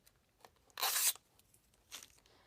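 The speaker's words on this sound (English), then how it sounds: "I'm going to go ahead and take the rest of the plastic off" Plastic wrapping is torn off a boxed Nendoroid figure: one loud, close rip lasting a fraction of a second, framed by softer crinkles and a shorter tear afterward, with no talking.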